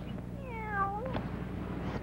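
A single cat meows once, a clear rising-then-falling call lasting about a second, close and alone against a quiet background.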